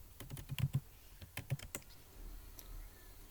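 Fingers type on a computer keyboard into the Windows search box, two short bursts of crisp, close key clicks separated by a brief pause, with no talk over them.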